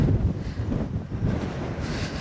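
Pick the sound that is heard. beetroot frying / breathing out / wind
wind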